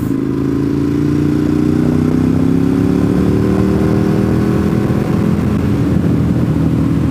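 A motorcycle rides along rough, poorly paved Wolf Pen Gap Road in Georgia, its engine droning loud and steady up close with a slowly shifting pitch and rumbling wind and road noise, no talking.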